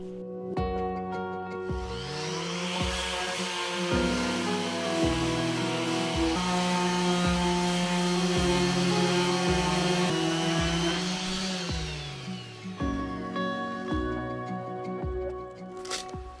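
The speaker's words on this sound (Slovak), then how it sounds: "idem sa najskôr pustiť do brúsenia" A power sander works wood with 80 grit sandpaper, a steady whirring grind that swells louder through the middle, changes pitch as the tool is pressed and eased, then stops briefly before starting up again.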